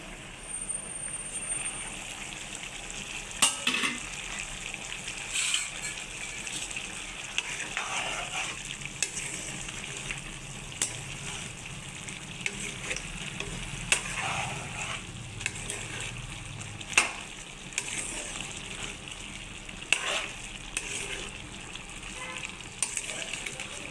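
Farm chicken fries in a pan with a steady soft sizzle, broken by sharper scraping knocks as it is stirred every few seconds, close and fairly quiet.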